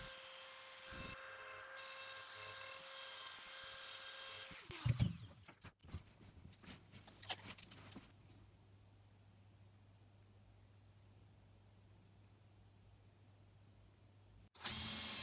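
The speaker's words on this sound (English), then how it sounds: "process could be done with any rotary tool and engraving bit. Here is a quick example." A handheld rotary tool with an engraving bit cuts a house number, a steady high whine that runs for several seconds and then stops, followed by clattering handling noises and a low background hum.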